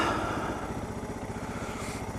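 A clean older Suzuki DR650 dual-sport motorcycle with a fresh battery runs steadily close by, its single-cylinder engine making a loud, even, throbbing idle with a fast low pulse that continues alone throughout.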